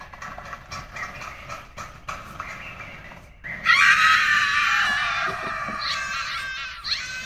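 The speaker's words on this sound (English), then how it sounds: "I think the scream at the end might push over." A loud scream breaks out partway through a film clip being edited in Premiere Pro, following quieter, busy movie sound and holding strong and sustained to the end.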